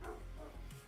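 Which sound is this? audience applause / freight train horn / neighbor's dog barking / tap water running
neighbor's dog barking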